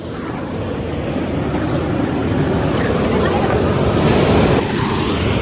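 Heavy downpour pours steadily like a waterfall over a dam during a fishing trip, a dense, loud broadband roar throughout with a brief voice near the end.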